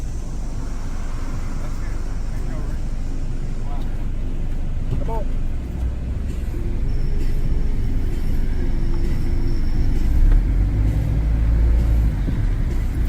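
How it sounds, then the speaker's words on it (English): A passing car on a rural county roadside during a roadside police stop swells into a low rumble that peaks near the end, with people talking over it. "As soon as this car goes by."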